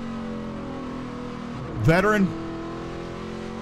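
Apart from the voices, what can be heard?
stock race car engine, onboard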